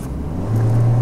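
A Citroën C4 Lounge engine revs up close and loud, its pitch climbing toward 6000 rpm in a rising whine before a gear change, with no talking.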